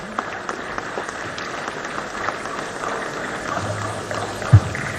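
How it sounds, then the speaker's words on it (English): Applause fills a parliamentary plenary session of Nigeria's House during National Assembly Open Week, a sustained crowd clapping at moderate distance, with a brief loud thump near the end. "I think he deserves another round of applause."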